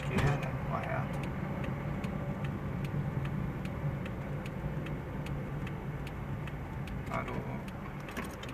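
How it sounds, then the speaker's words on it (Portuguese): In a driving-school car on a road test route, the left turn signal ticks in a quick, even rhythm, faint beneath the steady hum of the engine and road noise. "vamos acionar a seta para esquerda"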